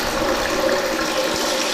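Well water runs from a garden hose into a reverse-osmosis storage tank, a continuous close splashing rush with a faint tonal hum underneath.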